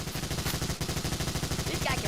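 Rapid automatic gunfire in the Yakuza 5 video game, a steady, evenly spaced rattle of shots that stays loud through the whole short burst.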